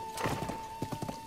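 Hooves clip-clop in quick, light bursts as a horse is ridden in Zelda: Breath of the Wild. The beats are fairly faint and play over a soft sustained game tone.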